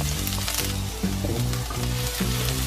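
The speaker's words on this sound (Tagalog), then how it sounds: "Bigisir tayo ng luya." Ginger sautés loudly in a hot pan, a steady dense sizzle with scraping ladle strokes and clinks from a metal spoon, close and continuous, with no talking.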